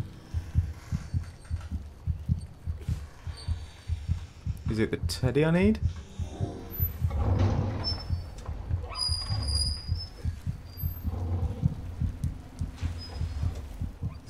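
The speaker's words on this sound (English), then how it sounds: "Why can I hear my heartbeat?" A low, steady thumping heartbeat pulses throughout the horror game Among the Sleep, under eerie tones and a voice speaking.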